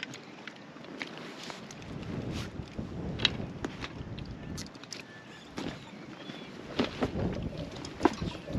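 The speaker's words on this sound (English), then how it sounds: "Breezy out." Breezy wind at Chance Bay in the Marlborough Sounds, New Zealand, buffets the microphone in uneven gusts, with scattered knocks and shuffling nearby.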